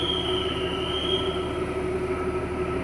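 The Kalka-Shimla toy train sits at Shimla station, giving off a steady mechanical hum with a high, faintly shifting whine that holds evenly throughout, with no voices.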